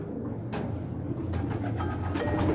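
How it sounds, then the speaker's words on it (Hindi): Kamangar, Golden and Kasuri breed pigeons coo on a rooftop loft in Karachi. Soft, low calls repeat close by over steady background noise, with no talking. "और ये कबूतरी जी कमंगरों में से, ये गोल्डनों में से, ये कसूरियों में से है।"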